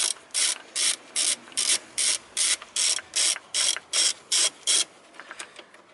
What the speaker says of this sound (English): I rotate this my tool so long that this bolt is free.